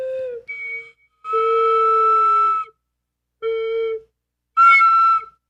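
A tonal whistle blows in four separate notes of varying length, clear and close, with short silences between them.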